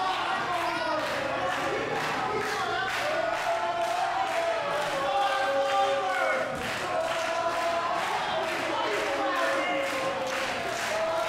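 A wrestling crowd roars and chants in a rhythmic, pulsing cheer, sustained and fairly loud throughout, with a commentator's voice mixed in.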